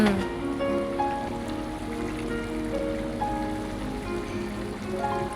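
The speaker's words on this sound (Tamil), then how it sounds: "மத்து போட்டு அந்த பருப்பை நல்லா கடை கடையணும்" A wooden churner (mathu) mashes cooked dal in a pot, making continuous soft wet squelching and sloshing, with faint tonal sounds in the background.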